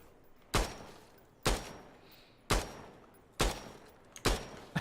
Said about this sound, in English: Little tap shots coming out from Trauma.